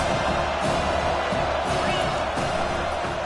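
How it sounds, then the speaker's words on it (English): Stadium crowd at an American football game, a steady, dense roar of many voices that stays loud and unbroken throughout, with no single cheer standing out. "This crowd going to try to make life miserable for these guys."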